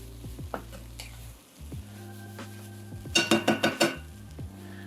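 Mushrooms sizzle in a pan while being stirred, a steady close fry broken by a quick burst of scraping, clinking utensil strokes near the end.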